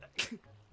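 A single short, sharp sneeze, quiet and abrupt, followed by a brief low murmur.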